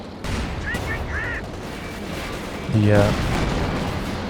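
Artillery and gunfire rumble in a Company of Heroes 2 match, scattered booms and a louder blast near the end, with a commentator talking over the battle sounds.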